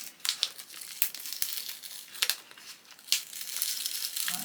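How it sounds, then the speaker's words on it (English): Plastic wrap being slowly peeled off a colouring book, close-up crinkling in irregular bursts of sharp crackles with quieter rustling between. "I'm not usually very careful at unwrapping things"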